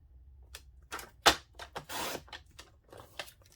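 Scissors snip through paper card in a series of short, dry cuts with one sharp louder crunch, close and fairly quiet, with no talking.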